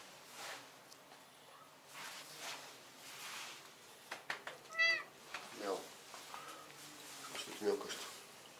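A cat meows several times in short, close calls, with a voice speaking softly nearby. The setting is a veterinary clinic, where the cat is recovering from a stabilized dislocation.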